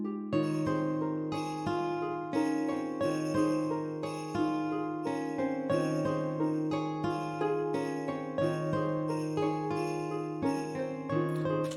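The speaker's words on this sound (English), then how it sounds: "I have little gyros for your AC Island that sound like sleigh bells that you only put out for Christmas." Gyroids on an Animal Crossing island chime like sleigh bells in a steady, rhythmic loop of bright tinkling notes over a sustained tonal bed, clear and continuous with no speech.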